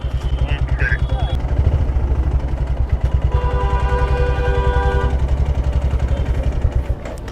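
A Royal Enfield Himalayan motorcycle engine, running with an abnormally heavy noise, runs loudly and steadily with a rough, heavy thumping rhythm, close by and continuous throughout.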